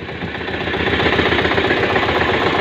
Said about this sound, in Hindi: और भाई अमन भाई का ट्रैक्टर है 242